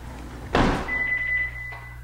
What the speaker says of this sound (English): You open the door and the panel beeps and chimes and announces patio left door.